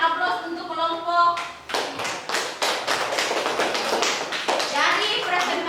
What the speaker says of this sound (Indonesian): Kita berikan aplaus untuk kelompok